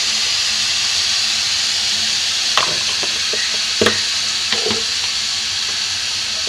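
Vegetables with turmeric fry hard in a pan over a high gas flame for sambar, with a loud, dense, unbroken sizzle and a few sharp utensil knocks near the end.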